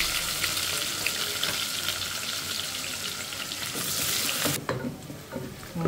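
Whole cumin seeds fry in oil until lightly browned for a Bengali rui fish head muri ghonto. A steady, bright sizzle with stirring runs throughout, then drops abruptly to a quieter crackle near the end.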